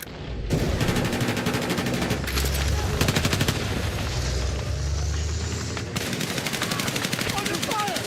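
Video game combat: rapid machine-gun bursts and heavy gunfire with booming impacts, loud and sustained, pausing briefly before resuming in dense rattling volleys, with a voice briefly audible in the mix.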